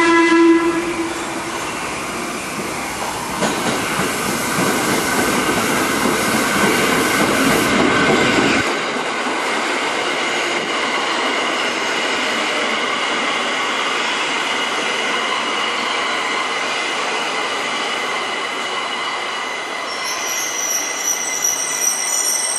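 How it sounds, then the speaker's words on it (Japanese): A Tokyo Metro Ginza Line subway train at Shibuya Station rumbles loudly into the platform, its roar easing after a few seconds into a steady hum, with a squeal and chime rising near the end. "まもなく2番線に当駅始発の浅草行きが参ります。"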